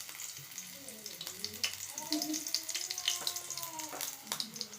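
Hot oil sizzles and crackles softly in a pan while tempering is prepared for pachadi, a quiet continuous fizz with scattered pops and light clinks close by.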